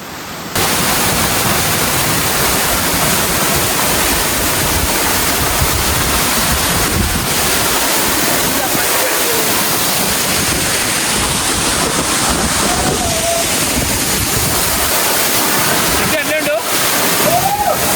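A waterfall about 30 km from Nandyal roars as a loud, continuous rush of falling water. Wind buffets the microphone throughout, with faint voices under the din.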